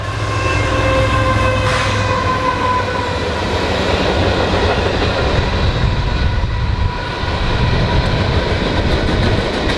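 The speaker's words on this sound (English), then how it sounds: "This campground is right near a railroad yard or a" A train rolls past a campground beside a railroad yard on the Erie Canal, a loud, steady rumble of railcars with tonal wheel and horn-like harmonics filling the full stretch without talk.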